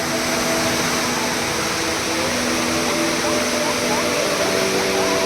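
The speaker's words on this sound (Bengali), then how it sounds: "এটা হচ্ছে ঝর্ণা" A waterfall in Odisha, reached on a hill trek, roars as a steady, loud broadband rush of falling water that fills the whole span without a break.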